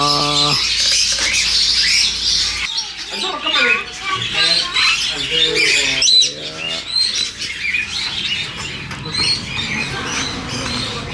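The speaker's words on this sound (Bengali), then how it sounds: "এই কাকাটুয়া" A cockatoo gives loud, harsh squawks at a bird market in Makkah, the calls repeating in bursts close by over market bustle while people talk nearby.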